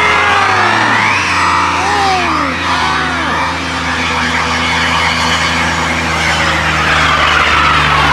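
A beater car does a loud, close tire burnout, the engine revving hard with sweeping pitch glides as the tires squeal and shred continuously against the pavement.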